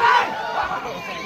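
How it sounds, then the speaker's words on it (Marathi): Spectators roar and cheer at a kabaddi semifinal match, a loud crowd clamor with shouted voices, swelling at the start and staying busy throughout. "क्रीडारसिकांचा जल्लोष यावेळेला ऐकायला मिळतो"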